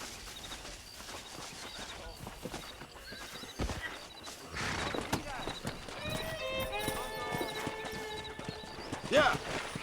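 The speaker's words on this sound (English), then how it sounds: "Let's see if we can't wrangle some horses." Horses in the Red Dead Redemption video game clip-clop along and give several loud, ringing whinnies, with a cowboy voice talking between the sounds.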